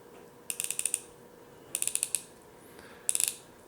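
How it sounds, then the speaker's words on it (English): Crisp ratcheting clicks from turning the bezel of a titanium RZE Endeavor watch come in three quick bursts of about five or six clicks each, close and clear over a quiet background. "you can hear those positive clicks"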